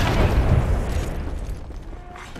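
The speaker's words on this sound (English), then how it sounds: "There's a care package coming down." A care package drops in a shooter video game with a deep, rumbling boom that is loud at the start and slowly fades into a low roar. No one speaks over it.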